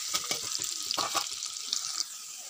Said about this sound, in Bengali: পেঁয়াজটা লাল লাল করে ভেজে নিলাম